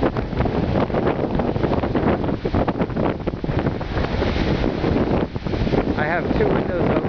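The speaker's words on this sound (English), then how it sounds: "Well, it's been an extremely windy day. First windy day since the yurt's been up." Strong wind buffets a yurt on a very windy day, with two windows open letting gusts inflate the canvas; steady roaring, rushing noise fills the whole span, loud and close as someone walks around inside.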